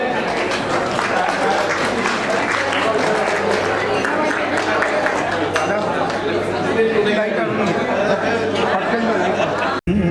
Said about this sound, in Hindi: तो नितिन पुणेकर जी के लिए जोर से ताली हो जाए।